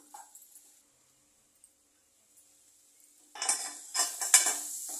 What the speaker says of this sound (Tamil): கொஞ்ச நேரம் இந்த பச்சை ஸ்மெல் போகிற அளவு வதக்கிக்கலாம்